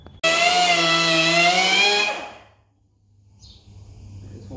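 A power tool cuts through wood and a metal bar on a 1947 Ford truck, a loud, steady whining grind lasting about two seconds before stopping abruptly, followed by quiet low hum and faint rustling.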